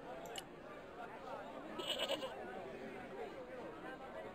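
Goat bleating in the video game Broken Sword 2: The Smoking Mirror, a short wavering bleat in the middle of a faint ambient game backdrop, with no one talking.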